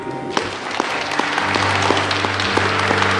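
A congregation at a family Mass in a church applauds, with a dense, even round of clapping that holds steady throughout, with a few sharper claps standing out.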